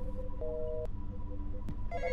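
A synthetic telephone ring in the Roblox horror game The Intruder chirps in short electronic bursts over a steady low hum, with sharp clicks between rings.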